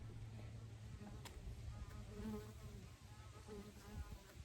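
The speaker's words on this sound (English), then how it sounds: "I wonder if those are guard bees." Guard bees buzz at the entrance of a 24-frame Layens bee hive on a late October afternoon. The hum is faint and continuous, with nearby wings droning and wavering up and down over soft outdoor background noise.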